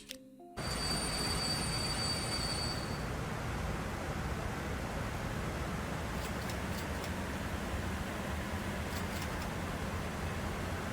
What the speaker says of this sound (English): Just think about all the train spotters that would actually sit and stand here and watch the trains come out